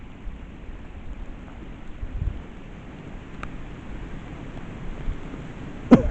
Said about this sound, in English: the rain is also picking up.